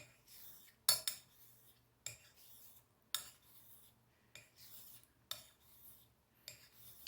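The bevel of a straight razor is stroked across a honing stone, a faint, quiet rasping scrape repeating about once a second in slow, even passes, with no voices.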